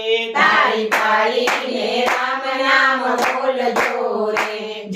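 Hands clap in a steady, even beat, about two claps a second, over a sung Gujarati devotional bhajan by a bhajan group, the claps sharp and close against the sustained voices.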